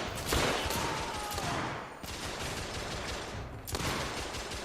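Gunfire in the video game The Order: 1886, loud bursts of rapid shots filling the first two seconds, a brief lull, then another sustained volley, close and dense with no talk over it.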